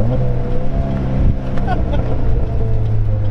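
A 2008 Pontiac Solstice, SCCA Champion Edition, downshifting with its engine note dropping and a few quick exhaust pops crackling near and loud over the steady drone.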